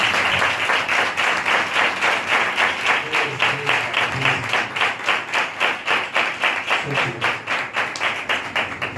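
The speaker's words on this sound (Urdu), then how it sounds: "روح القدس کے زوردار تالیاں دیں" A church congregation at a Pentecost Sunday service claps in a strong, steady rhythm, a dense wash of many hands beating in time that continues without a break.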